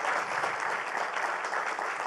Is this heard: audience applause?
yes